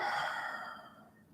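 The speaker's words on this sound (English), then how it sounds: "Can you hear my breathing?" A single slow, audible exhale during yoga practice, breathy and close, fading out over about a second.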